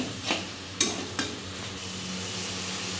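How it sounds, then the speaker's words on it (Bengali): Spice paste (masala) being stirred in hot oil in a pan with a little added water, a few sharp scrapes and clinks of the spoon over a soft, steady sizzle, close up with no talking. "মশলাটা আর একটু জাস্ট নাড়াচাড়া করে নেব"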